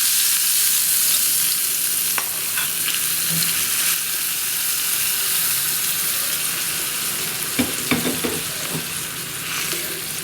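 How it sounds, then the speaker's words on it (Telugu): Garlic and dried red chillies fry in a hot tempering for mango dal, giving a steady broadband sizzle with stirring clinks and a few sharper spatters near the end, close and loud with no talk. "ఇందులో ఎల్లిపాయలు, ఎండుమిరపకాయలు బాగా వేగుతున్నాయి"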